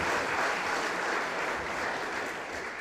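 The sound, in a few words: audience applause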